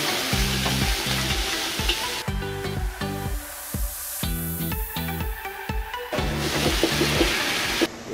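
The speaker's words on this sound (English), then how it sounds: "The chef is actually gonna show us how he made the lobster claw with spicy sauce." Lobster claw with spicy sauce sizzles and fries in a restaurant wok, loud, continuous crackling with rhythmic bursts as the food is stirred and tossed, no talking.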